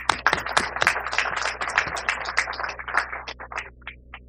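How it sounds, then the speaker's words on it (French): An audience at an official gathering applauds the security forces: dense, close hand clapping from many people that thins out and fades over about four seconds. "Je veux aujourd'hui demander à vous tous ici présents d'applaudir celles et ceux qui assurent notre sécurité au quotidien."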